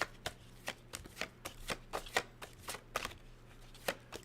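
A deck of cards is shuffled repeatedly, a close series of crisp riffling bursts in an uneven rhythm, roughly two per second, with no talking.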